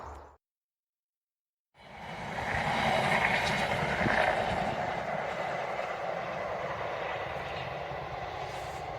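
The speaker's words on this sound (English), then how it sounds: "That was obviously a train going past." A train rumbles past with a steady, broad roar after a moment of near silence, the noise holding loud and close for several seconds.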